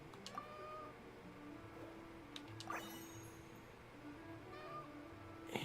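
A cat meows a couple of times at close range, fairly quiet, over a low steady background hum, with no speech.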